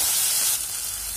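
Turmeric and salt frying in hot oil with vegetables, ahead of adding small fish, give a loud, close, steady sizzle that eases slightly partway through, with no talking.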